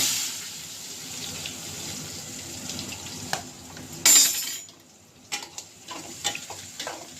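Onions, green chilies and garlic cloves drop into hot oil with cumin in a pan for a ridge gourd curry, a soft steady sizzle with a sharp burst of spattering and a few scraping clinks afterward.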